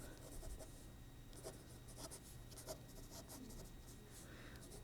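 A pen writing on paper during a statistics lesson, faint scratchy strokes in short repeated bursts, close and quiet with no talking.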